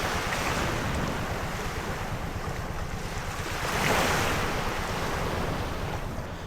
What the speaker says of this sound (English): This is the sound of the waves